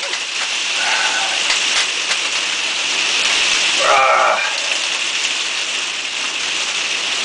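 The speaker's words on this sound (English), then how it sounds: "It's just started sitting down with rain again." Steady broadband hiss of rain falling on a surface, continuous and fairly loud throughout, with a brief brighter patch of sound partway through.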